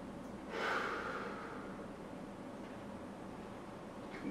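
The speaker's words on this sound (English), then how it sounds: "Take a couple deep breaths here." A person doing a hip stretching routine takes a deep breath, a loud close inhale that swells and fades, followed by quieter steady breathing against a soft hiss, with no talk.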